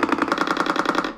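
Simulated rapid-fire recoil on a Transformers Human Alliance arcade gun: a fast, steady mechanical rattle of evenly spaced knocks, about a dozen a second, loud and close, running continuously before cutting off.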